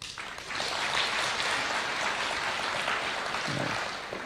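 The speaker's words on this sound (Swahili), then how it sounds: "Naona Vice Chancellor ndiye anapiga makofi zaidi." An audience at a State House gathering of church leaders applauds, including the Vice Chancellor, in a steady, dense wash of clapping that swells after a moment and holds at moderate loudness without speech.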